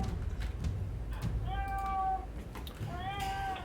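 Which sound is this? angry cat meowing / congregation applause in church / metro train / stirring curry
angry cat meowing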